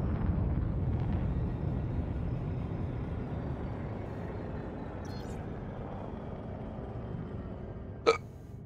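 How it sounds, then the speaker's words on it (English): Single short hiccup, fairly close and sharp, over a steady low rumble of spaceship engines in Elite: Dangerous, with no talking. "Hiccups."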